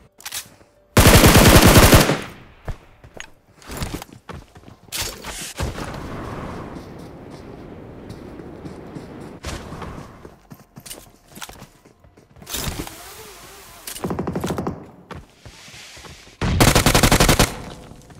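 Video game gunfire in BGMI: loud, bursting automatic fire comes in several long volleys separated by quieter gaps with scattered single shots and footsteps.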